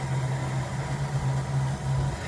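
A car engine runs at a steady idle, a constant low hum that drones on without change for the whole moment.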